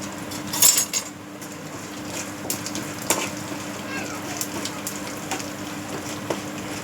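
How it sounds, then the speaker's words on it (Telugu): Ingredients frying in a pan as dried red chillies are about to go in, a steady soft sizzle with occasional clinks of a spoon against the pan and a voice speaking briefly over it. "ఇవి ఇప్పుడు వేగనివ్వాలి"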